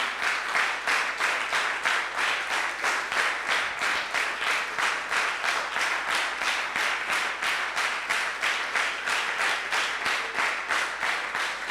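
A church congregation at a Sunday worship service claps in a steady rhythmic beat, the loud, even claps continuing for the whole stretch without pause and with no clear talk over them.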